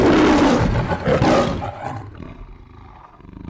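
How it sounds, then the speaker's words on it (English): A giant woman lets out a long, loud, growling roar lasting over a second, then it trails off into quieter rumbling and silence. "Hear me roar."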